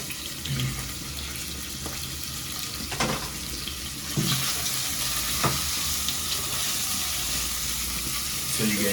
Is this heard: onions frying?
yes